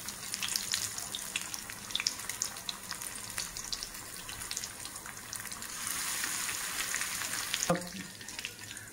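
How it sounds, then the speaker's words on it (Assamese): Stuffed bitter gourd fries slowly in a pan over low heat, giving a steady soft sizzle with faint crackles and a brief clatter near the end; no one speaks. "ভাজিব লাগিব"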